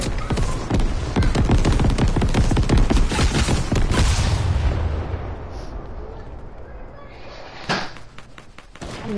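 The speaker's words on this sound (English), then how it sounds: "I just threw an airstrike." Airstrike in the video game Fortnite: a dense, rumbling barrage of overlapping booms rolls on loudly for about four seconds, then fades into quieter background with one more sharp thud near the end.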